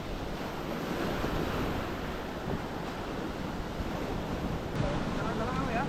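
Ocean surf breaks along the coast of Nusakambangan island in a loud, continuous wash of roaring waves, with heavy wind buffeting the microphone.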